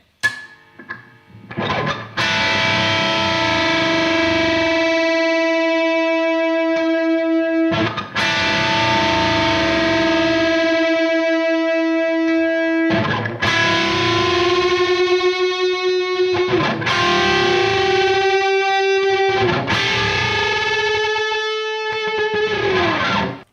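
Sustained distorted electric guitar notes played close, each held note wavering with a pulsing beat as one string bends toward another, four long phrases in a row.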